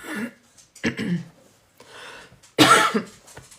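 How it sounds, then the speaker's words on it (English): Several close, abrupt coughs come in separate bursts with short pauses between them, loud and near, with no talking. "Sorry guys, I don't mean to be coughing in your ear."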